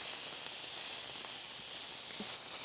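A steak sears in a hot pan, giving a steady, loud sizzle and hiss that holds evenly throughout with no voices over it.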